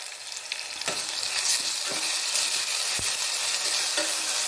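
Ginger-garlic paste frying in a pan gives a bright, steady sizzle, with a few soft spoon taps and scrapes as it is stirred, close and continuous with no talking.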